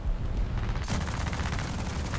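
Aircraft cannon and machine-gun fire rattle in War Thunder during a dogfight against a B-25 bomber, dense rapid bursts over a loud continuous engine roar, intensifying midway.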